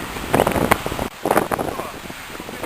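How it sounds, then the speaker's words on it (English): Strong wind by a river buffets the microphone in loud, rushing gusts, with a brief dip before it surges again. "As you can hear, it's very windy"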